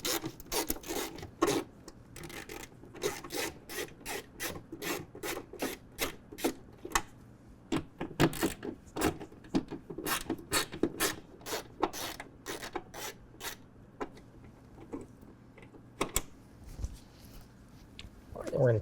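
Bolts being removed with a 7mm socket from the wheel-well area of a 2024 Ford F-150, giving a long run of quick, sharp ratcheting clicks in close bursts, with short pauses and some handling rattle.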